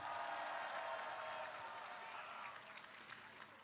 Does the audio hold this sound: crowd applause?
yes